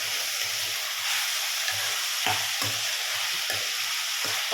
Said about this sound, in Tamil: தக்காளி கொஞ்சம் குழஞ்சி வர வரைக்கும் வணக்கணும்.